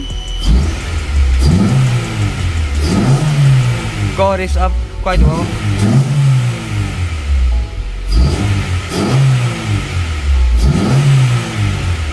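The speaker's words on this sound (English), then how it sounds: "As you guys can hear right there, and as you can see, the Honda revs are perfectly fine." A Volkswagen Golf GTI Mk5 engine revs in repeated bursts, about six rising and falling surges at steady intervals. The car is heard up close and loud, with a person talking over it.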